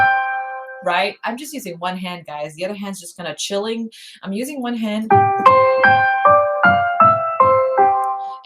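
Piano layer in MainStage with the octave effect on, a run of about eight bright stacked notes struck one after another in even rhythm, following a stretch of someone talking.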